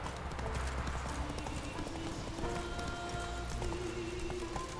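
In The Witcher 3, a horse gallops steadily, its rhythmic hoofbeats clip-clopping fast and close, with game music tones underneath.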